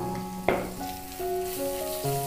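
Curry leaves, crushed ginger and garlic hit hot oil with browning onions in a pan, a sharp burst of crackling sizzle followed by steady frying hiss, with tonal hums from the surroundings underneath.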